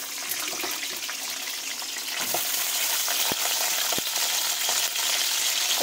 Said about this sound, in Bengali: কড়াইতে তেল দিচ্ছি। দিয়ে কিন্তু আমি যে আলুগুলো রেখেছিলাম আলুগুলো দিয়ে দেবো